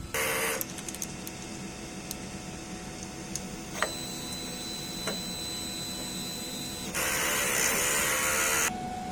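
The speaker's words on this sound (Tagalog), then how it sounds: "Ang ating printer head. Mag-head clean tayo. Pindutin natin yung strong heads." A DTF printer runs its print-head cleaning cycle: a steady mechanical hum with faint ticks and clicks, then a louder rushing, spray-like whir near the end. No one speaks over it.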